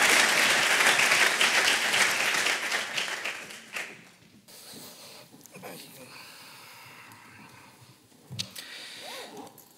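An audience applauds Antonio Fernández with loud, dense clapping that tapers off after a few seconds, leaving quiet room noise, shuffling and a few faint sounds.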